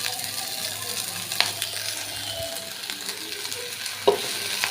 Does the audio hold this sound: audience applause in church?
no